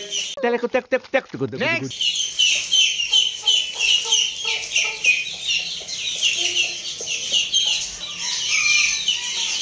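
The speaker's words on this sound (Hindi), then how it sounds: "ये देखिए जी, हमारी मुर्गी बैठ गई है।" An Aseel hen settling onto bantam eggs clucks and murmurs close by in soft repeated calls, with a brief louder squawk at the start and faint rural background noise.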